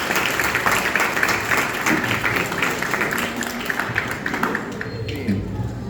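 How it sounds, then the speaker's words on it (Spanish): Applause from a school audience at a student debate, a dense steady patter of many hands lasting throughout, fairly loud, with voices murmuring underneath and tapering slightly near the end. "Aplausos."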